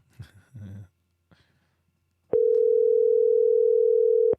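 A telephone rings on an outgoing call, a single steady, loud electronic ring tone lasting about two seconds after a short spoken phrase and a pause.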